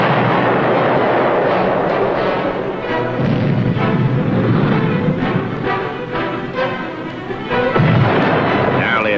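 Depth charges explode against the submarine Flier in a loud, continuous barrage of heavy booms and rumbling blasts, with repeated bursts layered over a steady roar throughout.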